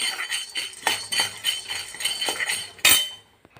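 Small vegetable pieces fry in a pan while a metal spoon stirs them, giving repeated scraping clinks against the pan over a low sizzle, close and clear.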